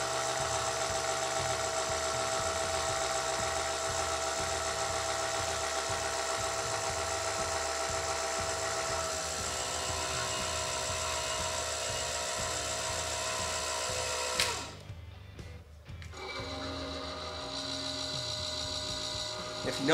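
Fuel water separator systems being primed, a steady rhythmic mechanical pumping rattle for about fourteen seconds that cuts off abruptly, then a quieter pump hum resumes.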